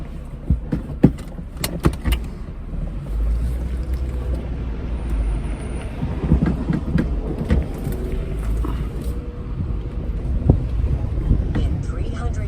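Inside a 23-year-old Volkswagen GTI driving through Fresno, a steady low engine and road rumble with wind noise fills the cabin, punctuated by occasional small rattles and clicks.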